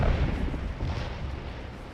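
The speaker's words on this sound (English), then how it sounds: "Artillery doing some pretty good work too." Cannon fire from a Civil War battle at Gaines' Mill in a 7 Days Around Richmond game mod, heard as dense, rolling booms blending into a continuous low rumble, loud and steady throughout.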